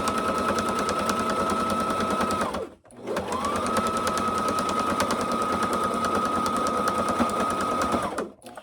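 A sewing machine runs steadily while stitching a quilted, padded zipper bag for a tablet. It makes a close, loud, continuous whir with a fast stitch rhythm, pauses briefly near three seconds, then runs on for about five more.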